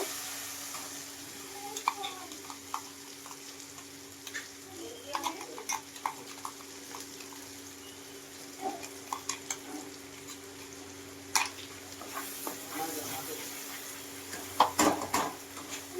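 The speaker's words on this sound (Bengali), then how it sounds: "এই যে বেটে রাখা সর্ষে আর কাঁচা লঙ্কা দিয়ে একটু হালকা করে নেড়ে ফেড়ে নেব" Ground mustard paste and green chillies stirred in a frying pan, with light utensil clinks and scrapes against the pan over a faint sizzle, no voices.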